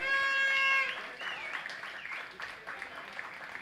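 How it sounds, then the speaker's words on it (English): Spectators at a cricket club final applaud an injured fielder getting back up, a fairly faint clapping wash after a brief tonal sound at the start, with light crowd noise throughout. "Can we have a big round of applause for Apurva?"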